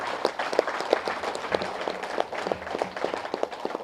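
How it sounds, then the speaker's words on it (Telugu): A crowd at a meditation gathering claps loudly, producing a continuous rattle of many hands with sharper individual claps popping out now and then. "గట్టిగా చప్పట్లు కొడదాం"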